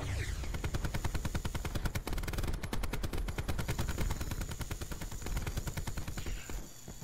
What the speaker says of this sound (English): I'm shooting him right in the fucking head!